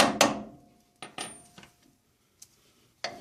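Several sharp metallic knocks in short bursts, a small hammer head striking a socket during wheel cylinder replacement on a 1997-2002 Dodge Dakota, with brief ringing decays and quiet gaps between hits.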